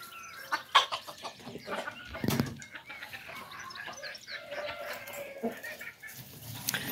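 A rooster clucks repeatedly at close range, short throaty calls scattered over a busy outdoor farmyard background, with no talking.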